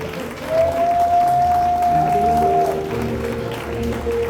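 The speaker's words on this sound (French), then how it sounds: "Et acclamons pour le Seigneur." A church congregation at a Sunday worship service applauds, a dense wash of clapping over a sustained keyboard tone, steady and fairly loud throughout.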